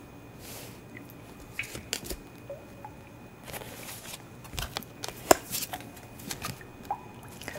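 Tarot cards being drawn and shuffled at a table, with soft papery flicks, slides and a few sharper taps coming close and quiet in an otherwise silent room.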